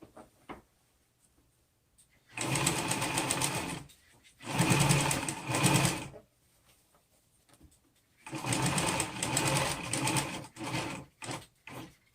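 A sewing machine stitches a homemade fabric face mask in three loud, steady runs of rapid whirring, with short pauses and light handling noises between them.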